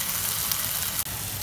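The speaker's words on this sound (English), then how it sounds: "As the fish is shallow frying" Pomfret fish shallow frying in a pan gives a steady, close sizzle of hot oil that holds even throughout, with one brief dip near the end and no voices.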